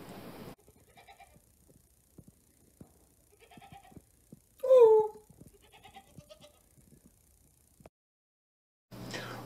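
Two pygmy goats on a rural farm give a loud, wavering bleat midway through, alone against quiet countryside background with faint scattered knocks and rustles.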